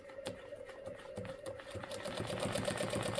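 A sewing machine stitches a quilt in short bursts of rapid, evenly spaced needle strokes, starting and stopping before running steadily near the end, quiet and close with no talking.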